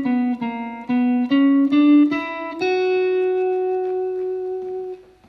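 Guitar runs through a Phrygian dominant scale in a bebop blues lesson, several quick picked notes in steady succession before settling on one long sustained tone that rings out and slowly fades, played alone and close.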